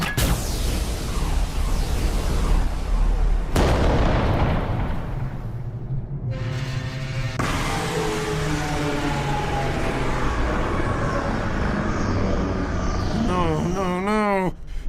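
Gunfire in the Warhammer 40,000 video game, a loud sustained roar of blasts and booming impacts with a sharp break partway through, followed by whining, warbling effects near the end.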